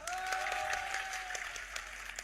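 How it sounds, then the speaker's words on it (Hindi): An audience at a religious discourse claps together, the applause steady and moderately loud, with a sustained sung or spoken tone carrying over it. "जिसकी तरफ था जरा जोर से ताली बजाओ फिर"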